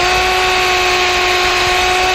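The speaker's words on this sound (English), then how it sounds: "I'm going to drill that just a little bit" A power drill bores into pine for a hanging cupboard woodworking project, a loud, steady motor whine running close and unbroken.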